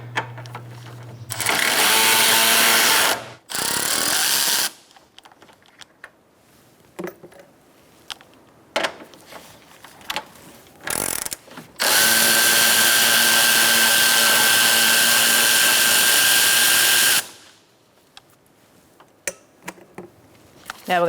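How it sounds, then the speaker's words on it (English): Power tool spinning a 10mm socket on the front bumper bolts of a 2014–2019 Kia Soul, several loud whirring bursts, from brief to a long five-second run, separated by quiet gaps with small clicks and handling noises. "Using a 10mm socket, we're going to take out these 2 bolts"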